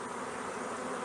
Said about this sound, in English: I got bees flying into my face.